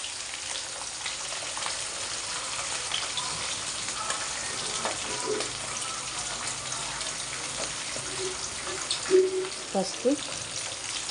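Peanuts and green chillies fry in a pan with a steady, moderate sizzle throughout, a few clinks and stirring knocks near the end, and a voice speaking briefly over it.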